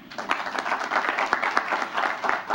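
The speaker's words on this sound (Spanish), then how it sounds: "Un aplauso, por favor." An audience at a panel forum on human rights reforms claps for an introduced speaker, a moderate, fairly quiet burst of many hands patting unevenly for a couple of seconds.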